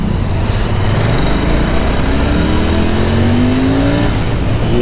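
A Royal Enfield Interceptor 650 motorcycle engine revving at the start of a ride on a cold day, a loud, continuous close-up drone with rising pitch sweeps as the throttle opens, no talk.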